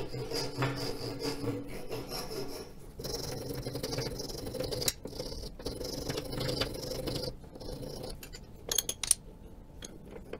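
A hand rasp files crystal radio base parts in quiet, close scraping strokes, irregular and broken by brief pauses and small knocks.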